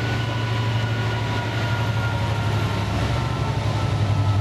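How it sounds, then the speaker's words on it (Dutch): A VFLI Class 66 diesel locomotive passes with a steady, loud low engine drone and continuous rolling rail noise, heard alone without speech. "Hier een Class 66 van VFLI."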